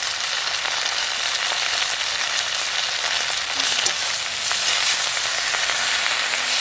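Kharkol (elephant foot yam) leaves frying in a pan with turmeric and salt give a steady, dense sizzle throughout, with small crackles and faint stirring scrapes near the middle and no voices.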